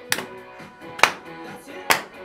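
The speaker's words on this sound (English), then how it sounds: "Come on, clap your hands." Three sharp hand claps spaced about a second apart, keeping time along to a children's song, clear and close over a faint musical background.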